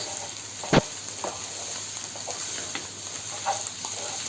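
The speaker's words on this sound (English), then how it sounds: "Now we're going to put our onion in" Onion frying with browned potatoes in a pan for samosa filling, a low steady sizzle with one sharp clack early and a few light stirring scrapes, fairly quiet and without speech.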